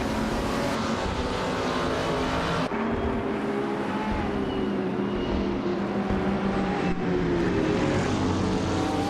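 2018 Ferrari 488 GT race cars howl around Lime Rock Park in a racing game, a dense, loud engine drone with gliding pitch changes as gears shift, a couple of sharp cuts in the sound, continuous throughout.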